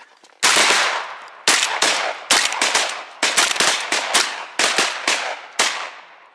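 Shotgun blasts ring out during a goose hunt in open fields, about a dozen loud, sharp reports in an irregular, rapid volley with echoing tails between shots.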